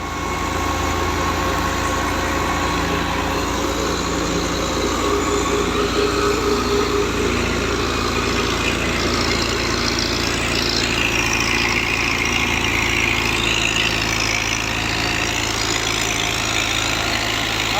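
A steady, close engine drone and vibrating rumble come from a New Holland Dabang tractor running a new thresher, holding loud and even for the whole stretch with no voices.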